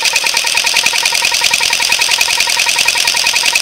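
A steady high-pitched electric whine from a small Graupner RC outboard boat motor spinning at full throttle, constant and close with no speech.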